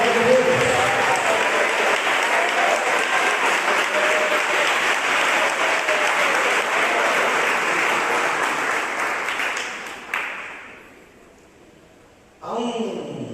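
Church congregation clapping together during a worship service, dense sustained applause for about ten seconds that fades, then briefly resumes at the end.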